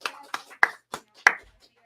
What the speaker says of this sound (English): Let's have a round of applause for Nikki.